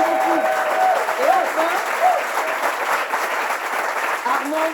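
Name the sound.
audience applause for a quiz contestant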